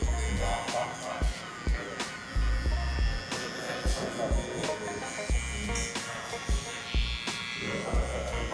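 A T45FX hair clipper buzzes steadily while cutting a mid fade, its low electric hum broken by repeated short taps and clicks as the blade passes through the hair.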